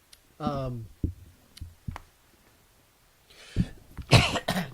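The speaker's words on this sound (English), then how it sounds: "I was cough and spit and sputter all over the place here." A person coughs several times in short, harsh bursts, with some throat clearing, close to the microphone, separated by brief pauses.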